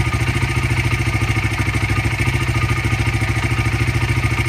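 Honda CRF80 dirt bike engine idling steadily after a carburetor adjustment, a close, loud, even putter with a rapid regular beat and slight clatter, no voices over it.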